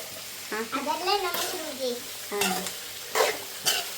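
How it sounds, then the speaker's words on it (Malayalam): Beef fry being sautéed in a pan: a spoon scrapes and stirs in short strokes over a steady low sizzle, with a voice briefly talking above it. "ചെറുതായിട്ട് വഴറ്റി വരുമ്പോൾ തന്നെ നിർത്തി ആ കറുത്ത രീതിയിൽ ഫ്രൈ ആക്കണം"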